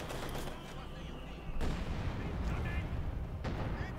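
Machine gun and artillery fire rumble in Company of Heroes 2 during a Wehrmacht versus Soviet match, dense overlapping bursts and booms with a sharper crack partway through, under a voice.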